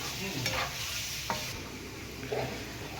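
Onions frying in a pan, a low steady sizzle broken by a few sharp scrapes of a stirring spoon.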